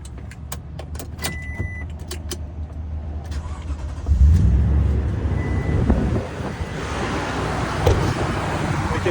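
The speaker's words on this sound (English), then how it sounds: "We can hear the big V8." Toyota Tundra V8 engine cold starting with the hood open, a loud low rumble that swells sharply midway and settles into a steady idle, with wind and heavy trucks passing in the background.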